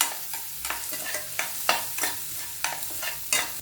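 Onion and asafoetida powder sautéing in a pan while making a black-eyed pea sundal, with a soft steady sizzle and repeated rhythmic scrapes of a spatula stirring the mix.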